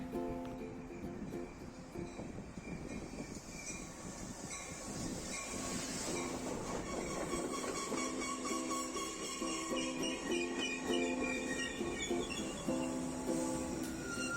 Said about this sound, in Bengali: যাই হোক আমাদের ট্রেন এসে গেছে চলো ট্রেনে চেপে পড়ি এবার